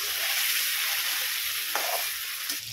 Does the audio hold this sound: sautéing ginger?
yes